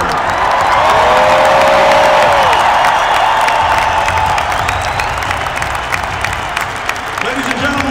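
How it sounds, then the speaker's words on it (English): Hockey arena crowd at a Pittsburgh Penguins game applauding and cheering for number 68, Jaromír Jágr, a loud, dense, sustained roar of clapping and whoops filling the whole stretch. "fans, how about another round of applause for number 68, Jaromíra Jágra"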